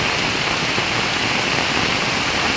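Heavy rain pours in a dense, unbroken roar, loud and close, with no voices.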